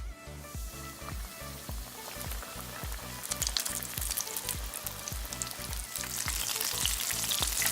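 Buttermilk-battered chicken pieces fry in hot oil, a loud, crackling sizzle that builds in intensity as the pieces settle in, alongside a rapid, regular low thumping in the background.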